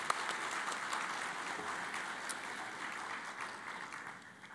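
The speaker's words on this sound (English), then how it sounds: "I really want to give them a round of applause." An audience at a service awards ceremony claps in a soft, even patter that stays fairly steady for a few seconds, sounding somewhat distant before tapering off at the end.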